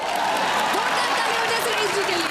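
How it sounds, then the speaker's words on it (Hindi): Studio audience applause on a comedy show, dense continuous clapping sustained throughout with a voice speaking over it. "ये हुई ना बात, ठोको ताली।"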